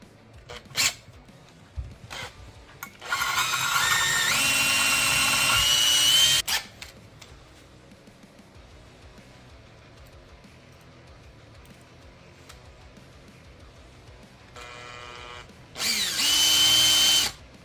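Power drill boring into a painted Red Line hubcap in two long whining bursts, with short taps and quiet pauses between.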